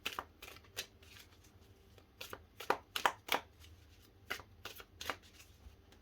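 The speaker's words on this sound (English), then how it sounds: "One more shuffle." Tarot cards riffled and shuffled by hand in short crisp bursts, several quick flutters and taps close up in an otherwise quiet room.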